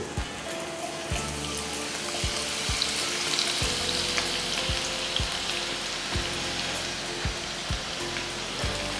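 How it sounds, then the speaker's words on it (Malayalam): Sliced onions deep fry on medium-high heat for Kerala-style prawn biryani, a continuous dense crackling sizzle close by, punctuated by soft periodic stirring knocks. "സവാള ഫ്രൈ ചെയ്യാനായിട്ട് ഇടാം."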